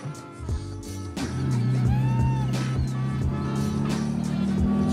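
A manual-transmission car drives in second gear, its engine droning steadily and rising slightly in level after an initial shift, heard from inside the cabin with no talking.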